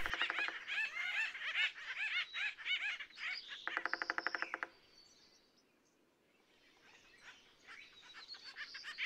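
Acorn woodpeckers at a lake in a county park, giving bursts of harsh, chattering, laugh-like calls, fairly close, then a quiet gap before fainter calls resume.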